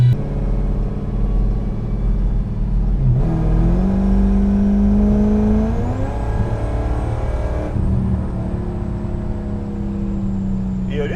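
A 1200+ hp Dodge Hellcat running E85 roars steadily as it accelerates, its engine note climbing in pitch through two gear changes, loud and close throughout, with some talk underneath.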